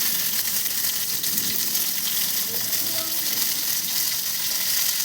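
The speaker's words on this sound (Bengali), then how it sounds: "ভালোভাবে পটলগুলোকে ভেজে নিতে হবে।" Steady close sizzling of pointed gourd (potol) frying in a pan, with faint scraping and stirring clicks now and then over the continuous hiss.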